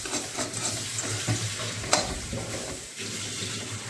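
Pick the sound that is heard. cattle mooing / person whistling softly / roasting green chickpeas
roasting green chickpeas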